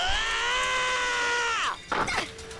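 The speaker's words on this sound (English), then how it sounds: "Why did you press the intercom button just to scream?" A co-op player screams over the voice-chat intercom during an Earth Defense Force 5 session, one long loud sustained shriek that bends downward and breaks off, followed by a brief rough burst.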